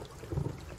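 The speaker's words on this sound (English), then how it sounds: "It's raining." A short stretch of cartoon rain with a low rumble of thunder, a soft steady hiss swelling briefly into a muffled boom, faint and heard on its own.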